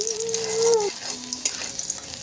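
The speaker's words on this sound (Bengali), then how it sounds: "এরপর রসুন কুচোগুলো তেলের মধ্যে দিয়ে দিতে হবে।" Chopped garlic and green chillies fry in hot oil for a sour spinach dish, a steady bright hiss of sizzling with a faint tonal hum alongside and a brief clink partway through.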